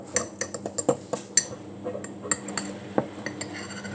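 A spoon clinks and scrapes against a mug while stirring Oreo mug cake batter mixed with syrup, giving a steady run of close, bright taps and scrapes.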